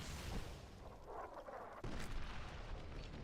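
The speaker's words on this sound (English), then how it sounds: "Just straight up heavy mortar fire." Heavy mortar fire in the Fallout: New Vegas video game, a dense, continuous rumble of booming blasts with a sharper impact near the middle, loud and sustained throughout.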